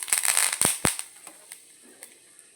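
Curry leaves dropped into hot coconut oil with fenugreek and chili powder, giving a burst of sharp spluttering crackles and pops that quickly thin out to scattered faint snaps.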